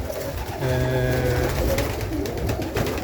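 Pigeons coo close by in low, throaty, repeated calls over a steady background hum.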